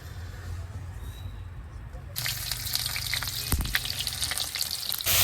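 Onions hit a hot pan and fry: after a quiet start, a loud, close sizzle bursts in and continues with crackling spatters and a brief clank.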